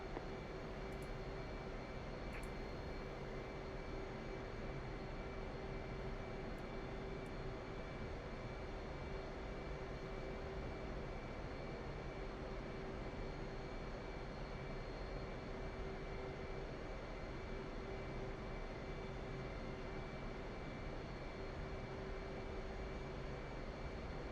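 Steady, droning jet engine hum of an F/A-18C taxiing toward the runway in DCS, a constant mid-level rumble with a faint whine and no other sounds.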